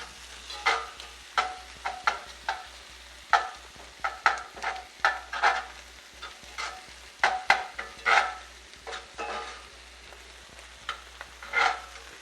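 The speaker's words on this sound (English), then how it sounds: "peppers and scallions. Let that fry a bit." Green peppers and scallions frying in a pan for Korean corn cheese, with a soft continuous sizzle under repeated bursts of stirring and utensil scraping, close and fairly loud, no voices.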